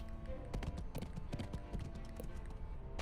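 A horse running away in a video game, its hooves clip-clopping in a quick, steady rhythm of light, fairly faint taps over soft background noise.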